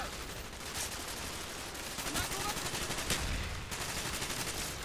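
Faint, distant-sounding pistol shots crackle through a dense wash of battle noise in a Call of Duty Black Ops Vietnam campaign mission, never rising far above the steady din.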